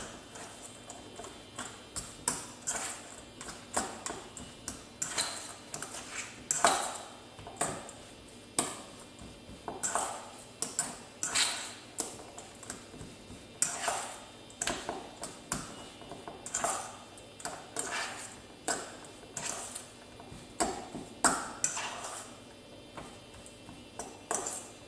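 Spoon stirring raisins into gluten-free, dairy-free oatmeal cookie batter in a bowl, a steady run of soft repeated taps and clinks with a faint scraping texture, close and quiet, with no talking.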